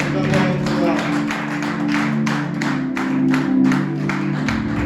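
A church congregation claps for the Lord in a sustained, even round of applause, with voices going on over it.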